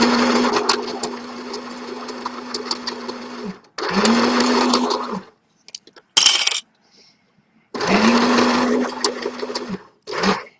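Sewing machine stitching square pieces of tie-dye fabric into a shopping bag, running in three steady bursts of a few seconds each with pauses and small clicks between.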